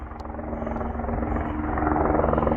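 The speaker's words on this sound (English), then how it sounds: "So there's a helicopter, in case you're wondering what that is." A helicopter flies overhead near the Pineapple and Elphinstone Tower ruin in Dunmore, Scotland, its steady rotor drone growing gradually louder and closer throughout.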